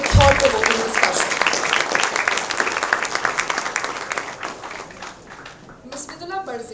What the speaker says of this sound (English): We must once again applaud all our panelists as well as our moderator for a thought-provoking discussion.